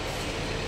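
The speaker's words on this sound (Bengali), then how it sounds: "এটাই আমাদের ট্রেন, যেটাই করে আমরা এখন এর্নাকুলাম যাব।" A train stands at Madurai railway station, the service bound for Ernakulam Town, giving off a steady, dense broadband rumble with no voices over it.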